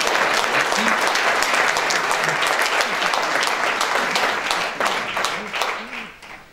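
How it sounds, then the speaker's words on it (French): A French-speaking audience at a public interview event applauds steadily, a dense wash of clapping that holds for several seconds before tapering off, with a voice faintly audible underneath. "cette présentation suscite des questions, oui, on peut applaudir Daniel Lafranc."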